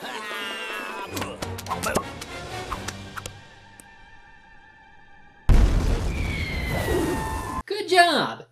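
A cannon fires with a heavy boom and rumbling blast in an animated Penguins of Madagascar scene, loud and sudden after a stretch of ticking, clanking effects and a quieter hum, with a second burst at the end.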